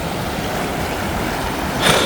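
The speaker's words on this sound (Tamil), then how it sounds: "பாருங்கள் எப்படி தண்ணி அடித்து தள்ளி கொண்டு ஓடுதுன்னு பாருங்கள்" Floodwater rushes and flows out toward the sea in Vattappalai and Mullaitivu, a steady, close, broadband roar with no break and a brief swell near the end.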